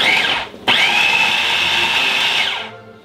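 A food processor pulses fresh salmon in a short burst: the motor snaps on with a sharp start, whirs at a steady high pitch for about two seconds, then winds down, loud and close.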